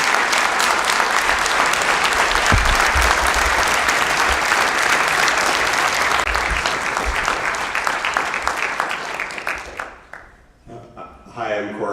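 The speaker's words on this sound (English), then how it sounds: "I'd ask you to, have a round of applause that they could take back to Guatemala" A large audience applauds at a film premiere, honoring guests from Guatemala; dense, sustained clapping fills most of the stretch, then thins and fades as a voice begins near the end.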